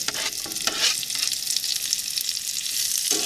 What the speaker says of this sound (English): I'm going to be sauteing my kale and onions in them next.